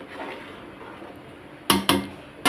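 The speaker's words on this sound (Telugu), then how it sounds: "ఒక్కసారి మిక్స్ చేసుకొని మళ్ళీ మూత పెట్టేద్దాం" Pot of boiling coconut milk rice being stirred, then three sharp metallic clanks as the lid goes back on, over a soft simmering background.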